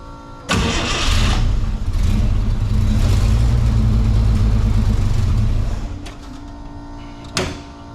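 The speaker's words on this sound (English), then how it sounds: "So I've been squirting a little bit of gas down the carb throat, and each time I do, I get it to fire up." The engine of an F-4 Phantom aircraft tow tug, running on gas squirted into the carburetor, catches and roars loudly for several seconds, then sputters and dies, with a brief clunk afterward.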